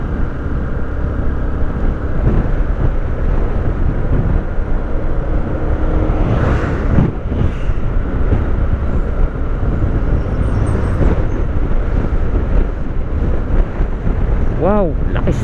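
Strong wind buffets a Yamaha YTX motorcycle rider on a night ride, a loud, constant roaring rush of air that fills the whole stretch, with the engine droning underneath.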